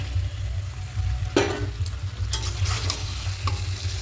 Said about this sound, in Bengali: দিয়ে সব কিছু আরও একটু ভালো করে কষিয়ে নেব।